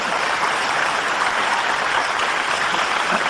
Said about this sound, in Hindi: 5-7 लोग ताली बजा रहे हैं,